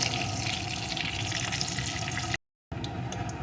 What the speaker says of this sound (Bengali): এই তেলের ভিতরে ফোড়নে দিয়ে দেবো গোটা গরম মশলা এটাকে একটু ভেজে নেব